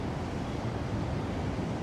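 Steady broadband rushing water of a waterfall used as background ambience in an anime scene's sound design, a continuous even roar with no talk.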